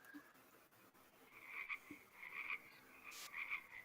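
Frogs croaking in a fantasy adventure ambience, repeated rasping calls in short bursts over a low, quiet background, some nearer and clearer than others, with no talk.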